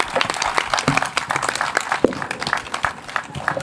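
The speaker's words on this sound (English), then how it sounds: "Give a huge round of applause for these students." An audience at a school literary festival podcast applauds students with loud, sharp hand claps in an irregular rapid patter, close and lively, lasting several seconds.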